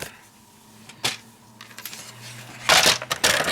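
Card stock being cut down to playing card size with a paper trimmer, a few close crisp slicing and scraping strokes with a louder rasping pass near the end, no talk.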